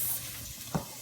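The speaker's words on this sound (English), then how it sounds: "I'm actually now beginning to put everything into the frying pan" A short burst of sizzling from black beans, corn and carrots frying in a pan, with a soft stirring scrape partway through, close and fairly quiet.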